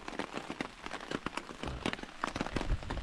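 Rain drums down at night, with irregular close drops and splats tapping on a surface over a steady patter, and no voices.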